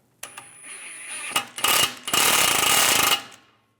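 A power tool tightens a new lower strut bolt and nut on a 1998-2010 VW Beetle suspension knuckle, giving loud, close, rattling bursts that start and stop, the longest lasting about a second.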